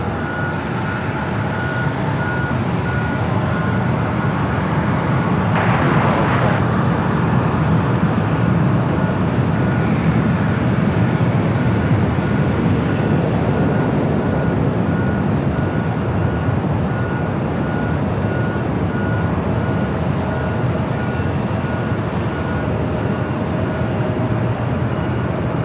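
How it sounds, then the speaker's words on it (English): A Hawaiian Airbus A330-200 bound for Honolulu begins its takeoff roll on runway 24 Left at Los Angeles airport, a broad, steady jet roar that holds constant throughout, heard from a distance, with a brief burst of noise early on and no talking. "A330-200 heading to Honolulu. Now starting its roll down the 24 left."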